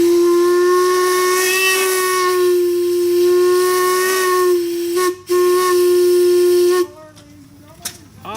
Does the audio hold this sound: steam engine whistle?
yes